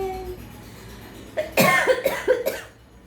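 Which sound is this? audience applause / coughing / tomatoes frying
coughing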